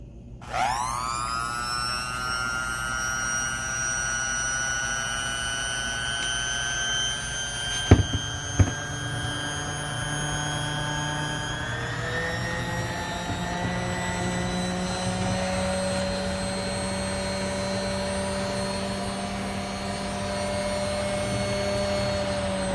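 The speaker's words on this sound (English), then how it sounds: "So here, I'll switch it on for you. You can see it in action." A vintage Dormeyer "Dormey" electric hand mixer, freshly relubricated, switches on and runs with a steady motor whine and rich harmonic hum, pitch settling lower midway, near and continuous with brief clicks.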